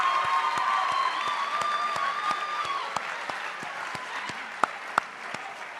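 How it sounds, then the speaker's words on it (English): Audience applause for 8th graders at a middle school promotion ceremony: a broad sustained patter of clapping with a few sharp louder claps standing out near the end, while soft voices and a whistle-like tone drift underneath. "Let's give a round of applause for all of the 8th graders"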